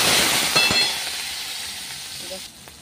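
Onion drops into hot oil already crackling with panch phoron spices, a loud close sizzle with stirring taps that gradually settles and fades within a few seconds.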